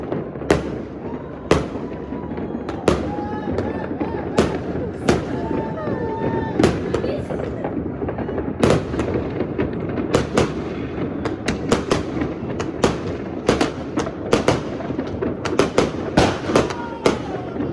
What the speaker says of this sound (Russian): Салюты над озером.